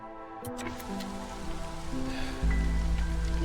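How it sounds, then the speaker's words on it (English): Steady drizzle from the video game Against the Storm, a soft continuous patter of rain with a low tonal game background underneath that swells slightly halfway through. "We got the drizzle."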